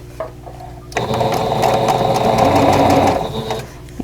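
Sewing machine running a steady burst of stitches across a vintage quilt block, loud and close, starting abruptly and stopping after about two and a half seconds, with quiet handling before and after.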